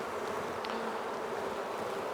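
Honeybees crawling on a frame during an inspection of a 14 x 12 hive, a steady, moderately faint buzzing hum with no pauses over a couple of seconds.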